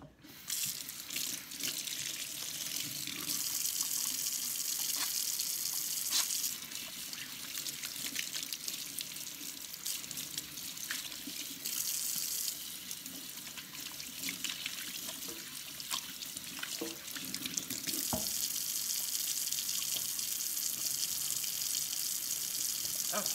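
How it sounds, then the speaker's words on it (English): A kitchen tap runs steadily while hands are washed beneath it, the water hissing and splashing continuously at close range, its tone shifting as the hands move through the stream. "let's go ahead now and wash my hands"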